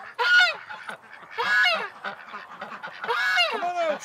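Several ducks honk and quack in loud, overlapping bursts at close range as a flock comes out of its house, the harsh calls rising and falling in three main clusters.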